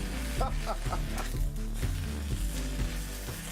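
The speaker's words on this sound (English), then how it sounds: "look at that spinach sizzle" Spinach and garlic sizzling in a hot pan, a continuous crackling hiss with occasional louder pops, heard beneath a low, steady background of sound.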